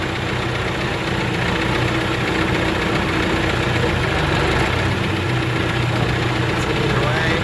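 A John Deere 450C bulldozer's engine runs steadily at low idle, a continuous rumbling drone with a faint knocking texture throughout, close and constant.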